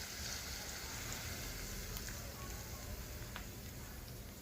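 Chopped onion, chili and ginger-garlic paste fry in a pan with cornflour water, giving a steady, even sizzle that stays fairly quiet throughout.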